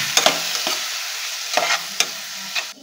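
Chopped banana flower vegetable stirred in a frying pan, a few distinct scraping strokes of the spatula over a steady soft sizzle, close up with no talking.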